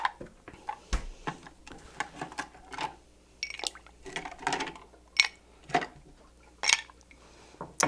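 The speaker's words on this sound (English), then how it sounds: "So we're going to stir it right now." A cocktail stirred with ice in a mixing glass, a stream of light ticking clinks and rattles from the ice and spoon, close and fairly even in rhythm.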